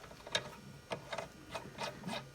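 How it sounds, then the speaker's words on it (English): A die turned by hand cuts a thread on a rod clamped in a vise, making faint, separate rasping scrapes in an irregular rhythm of about six strokes, close up and quiet. "We got our die. We fixed the edge a bit."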